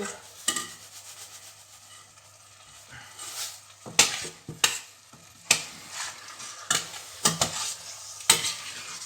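Coral lentils cooking with tomatoes in a pan, a low sizzle under repeated sharp clinks and scrapes of a utensil against the pan, stirring in irregular bursts, close and fairly loud.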